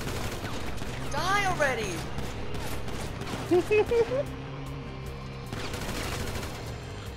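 Rapid bursts of gunfire in Grand Theft Auto V Online crackle at moderate level through the scene, mixed with a player's shouting and other game sounds.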